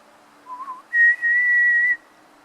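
A person whistles in imitation of a strange whistle heard in wooded Washington State country above a creek gully: a short wavering note, then a long steady higher tone, close and clear with no talking.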